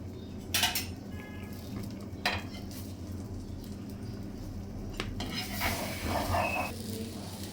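Bread omelette frying in a pan with a lid, a low steady sizzle broken by a few sharp metal clinks of a utensil against the pan.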